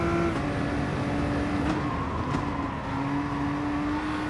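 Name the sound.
Nissan GT-R GT3 engine downshifting in video game GT Sport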